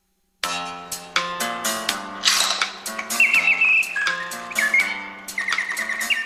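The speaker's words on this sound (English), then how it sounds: "a French watchmaker perfected the sound mechanism, making the birdsong virtually indiscernible from the real thing" Bright, rapid chirps and warbling trills of a Swiss-made mechanical singing bird automaton, loud and close, continuous with quick rising whistles and no talking.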